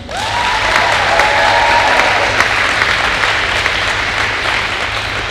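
A loud, sustained round of applause from spectators at a girls' volleyball championship match, dense clapping filling the gym evenly from start to finish with a faint tonal ring early on.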